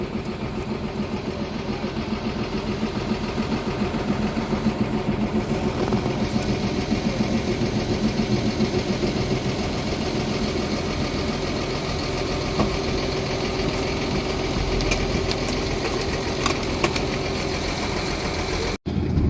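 A farm tractor engine idles steadily while parked during corn silage bagging, a constant low rumble that runs without a break and cuts off abruptly at the very end.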